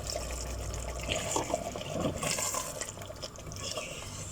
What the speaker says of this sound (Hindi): अब इसमें हम 1/2 कप पानी ऐड करेंगे